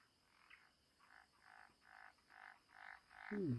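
Frogs croak in a soft, regular series of pulses, fairly faint and distant, with a quiet outdoor hush between calls, at Chungju Lake during eel fishing.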